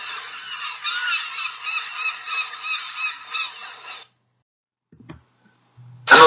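Seagulls in a flock at Mogador give a continuous chorus of harsh, honking calls for about four seconds, then fall silent, with a few faint bumps and a brief louder noise at the end.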